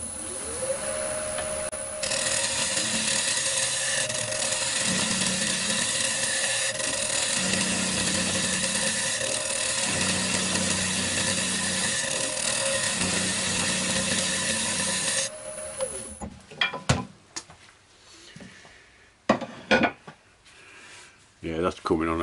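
A wood lathe spins a sapele bowl while a scraper cuts it, producing a steady loud whirring hum with rhythmic rubbing pulses for about fifteen seconds, then the motor winds down into scattered knocks and handling noises.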